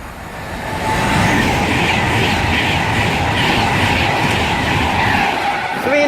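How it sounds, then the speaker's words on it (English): A Virgin Pendolino express bound for London Euston roars through Winsford station on the West Coast Main Line, a loud sustained rush of wheels and clatter building quickly and holding close before easing at the end. "passing through now is going to be a Virgin Pendolino for London Euston"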